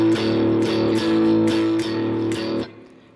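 Blues shuffle rhythm guitar in A, the boogie pattern, strummed in steady even chugs at a loud level, ringing out for about two and a half seconds before stopping.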